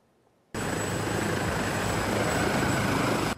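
A Turkish GÖKBEY utility helicopter flies close by, its engine and rotor roar starting abruptly after a quiet moment and holding loud and steady, with no voices.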